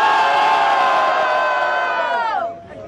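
A crowd at a live freestyle rap battle final roars with sustained cheering, whoops and shouts that hold steady and then fade near the end, loud and close.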